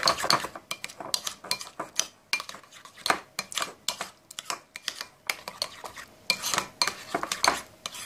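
Cauliflower being mixed with umeboshi vinegar in a pan for BBQ cauliflower, heard as close, irregular clinks and scrapes of a utensil against the pan, with no talking.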